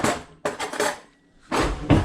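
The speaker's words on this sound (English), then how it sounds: "So I'm gonna get a fork" A metal fork being picked up and knocking against dishes, a few short, bright clinks and clatters in quick bursts with a brief pause between them, close by and fairly loud, with no talking.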